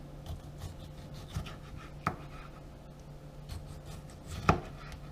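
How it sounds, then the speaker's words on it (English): Knife cutting a tomato into thin slices on a board, a few soft scattered cuts with two sharper knocks as the blade meets the board, close and fairly quiet with no talk. "we're just going to kind of continue to cut the tomato into thin slices like we did with the onion"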